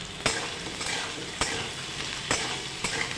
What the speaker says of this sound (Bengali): পেঁয়াজের সাথে আলু বেগুনগুলো একটু হালকা করে তেলে নেড়ে নেব